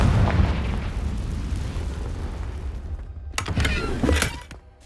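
Confringo blasting spell in Hogwarts Legacy, a loud booming explosion that rumbles and decays, followed by a few sharp crackling bursts of debris near the end.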